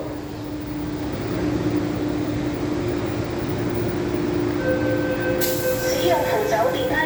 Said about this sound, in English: We'll wait for the train to leave.